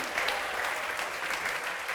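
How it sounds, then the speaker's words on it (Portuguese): Steady applause from a church congregation during an evangelical service, dense, even clapping sustained throughout at a close, moderate level with no distinct voices above it. "Vamos aplaudir ao nome de Jesus"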